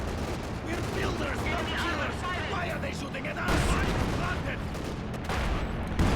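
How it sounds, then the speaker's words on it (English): Constant heavy gunfire and explosions from a German strafing run in the World War II strategy game Company of Heroes 2, a dense, loud battle din with a commentator's voice mixed in. "So we have another German strafing run"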